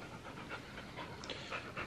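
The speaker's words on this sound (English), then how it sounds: "We've got a very excited puppy here" An excited puppy pants rapidly and steadily at close range, quick breathy puffs with no talking over them.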